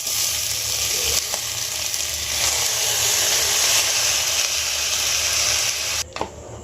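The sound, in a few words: rice added to hot pan, frying for basanti pulao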